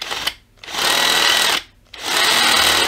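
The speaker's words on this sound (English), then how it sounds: "I can just drill it a little bit with a bigger one. Just to countersink the screws." Power drill countersinking screw holes with a larger bit in a pickup winder being motorised, two loud close whirring bursts separated by a short pause.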